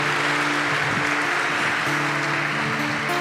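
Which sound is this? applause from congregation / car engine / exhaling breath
applause from congregation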